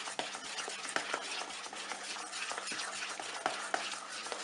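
A utensil stirs Nutella cake batter in a bowl, making soft, close, rhythmic scraping and light taps repeated steadily, quiet with no speech.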